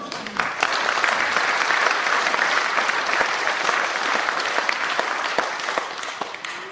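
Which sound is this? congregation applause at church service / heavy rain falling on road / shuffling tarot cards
congregation applause at church service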